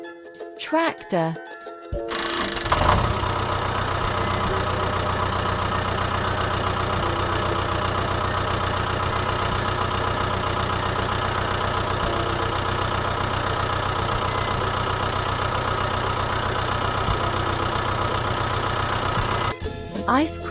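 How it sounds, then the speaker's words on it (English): A tractor engine idles with a steady, even mechanical hum and rattle that holds at a constant level for most of the stretch, opening after a brief chime and ending abruptly. "tractor"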